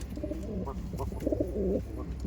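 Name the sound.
Giribaz pigeons (Chini pair) cooing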